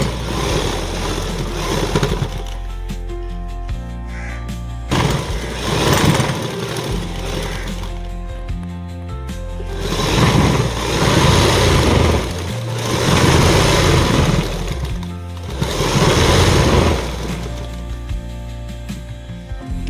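Continuous mechanical whirring and rattling from a sewing machine stitching fabric, loud and close, with the pace surging and easing in several bursts across the whole stretch.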